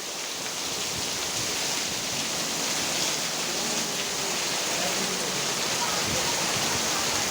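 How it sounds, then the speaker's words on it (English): Heavy, pouring rain in Goa makes a thick, unbroken hiss that stays even and loud from start to finish, with no breaks or distinct drops. "All right, it's raining in Goa."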